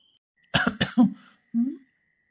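A person coughs three times in quick, harsh succession, then gives one shorter throaty cough after a pause, close and loud in an otherwise quiet room.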